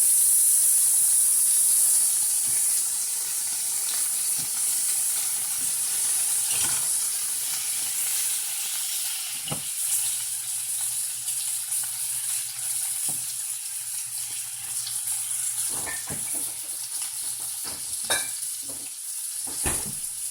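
Butter hisses and sizzles steadily in a hot pan under seared ocean trout, a continuous frying hiss with occasional sharper crackles and spatters, close and moderately loud.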